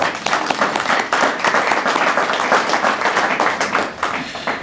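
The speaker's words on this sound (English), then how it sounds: "Let's applaud that gift." Sustained applause from an audience at a college educators hall of fame ceremony, dense steady clapping filling the room for several seconds without speech.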